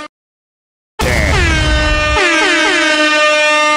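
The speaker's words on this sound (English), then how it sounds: "Give me an air horn one time." A loud air horn sound effect blasts in a song after a second of silence, sustained for nearly three seconds with a stacked, slightly bending tone over the beat.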